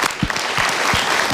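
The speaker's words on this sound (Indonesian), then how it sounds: "Kita berikan tepuk tangan ke pasangan anak ini" A crowd claps steadily, a dense patter of applause filling the whole short stretch without pause.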